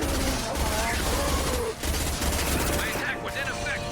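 Sustained automatic gunfire with incendiary ammo in Mass Effect 2 (2010), loud and continuous with a brief gap, mixed with game effects while someone talks over it.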